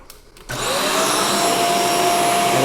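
After a brief click, a Shark Stratos vacuum cleaner starts up with a loud, steady whirring roar that continues unbroken, close by, with a high whine on top.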